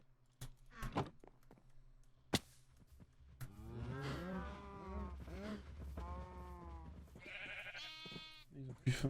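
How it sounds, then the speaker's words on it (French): Sheep in Minecraft bleating in several wavering calls amid other farm animal sounds, with a few sharp clicks at the start and a voice talking at moderate level. "j'allais nourrir mon mouton"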